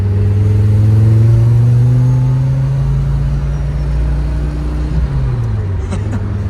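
A Porsche 944 fitted with a swapped Audi five-cylinder engine cruises at a steady 3,000 rpm, its low, even drone holding loud and close throughout, easing off slightly near the end.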